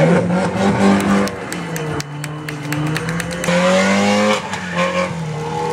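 A race car revs and accelerates hard through several gear changes, its loud engine note climbing and dropping in steady harmonic sweeps, with brief tire noise, up close and without talk.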